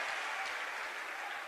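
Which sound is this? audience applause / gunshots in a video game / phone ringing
audience applause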